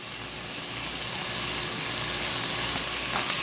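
Onions frying gently in a pan over low-to-medium heat, a steady close hiss and crackle of sizzling oil that stays even throughout, with no voices.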